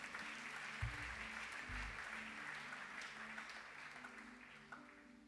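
Church congregation applauding the Lord after service announcements, a sustained even wash of clapping from many hands throughout, with music or organ tones underneath and occasional low thumps.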